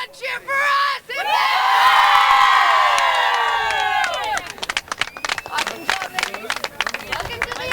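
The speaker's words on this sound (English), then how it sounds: "3 cheers to Fiji! Hip hip!" A women's rugby team chants three cheers in unison, a leader's call answered by loud group shouts of hip hip and hooray, then whoops and scattered clapping, close and lively.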